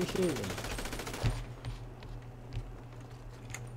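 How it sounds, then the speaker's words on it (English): Rapid bursts of video game gunfire in a street setting, loud and crackling at the start then fading into sparse, quieter shots under background noise. "He's just shooting me up middle of the street"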